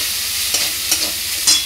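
Masala with Kashmiri chili powder and salt being stirred in a pan for a ash gourd dish, a soft steady sizzle with a few brief scraping strokes of the spoon.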